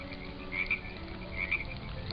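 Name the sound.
recording of a frog croaking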